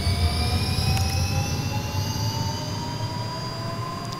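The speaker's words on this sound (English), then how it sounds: "We need to turn on our APU unit, which is right here. And while we do that, it's going to get loud" The auxiliary power unit of an A-10C Warthog starts up in a flight simulator game. A steady, loud jet-like whine rises slowly in pitch over a low rumble, running continuously with no talking.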